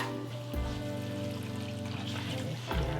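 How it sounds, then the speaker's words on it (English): Water is poured into a pot of noodles for turkey helper on the stove, with a steady pouring wash that runs the whole time and surges near the start and again near the end, with no talk over it. "So we're gonna have to add what? Some water."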